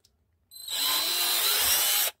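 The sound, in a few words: drilling a hole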